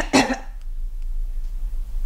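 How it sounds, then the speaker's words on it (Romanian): A single sharp cough from a patient during a doctor's examination in a Romanian radio play, loud and close, then quiet room tone. "Tușiți."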